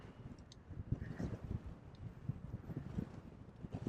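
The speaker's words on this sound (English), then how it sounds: "Yeah, you could really hear the wind." Strong wind buffets the microphone during a trike ride on a riverside bike path, making a continuous low rumbling roar with gusty surges throughout and no talk.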